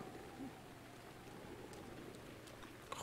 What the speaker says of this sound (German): Deswegen hasse ich den Regen in diesem Game.